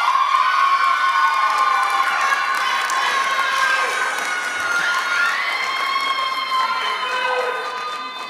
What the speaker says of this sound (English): This is a wild crowd tonight.